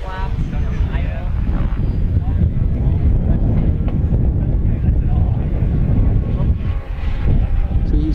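Continuous engine drone of an RC model airplane, a high-wing FMS Ranger, making a low pass in a touch and go at an outdoor fly-in, loud under heavy wind buffeting on the microphone with people talking over it.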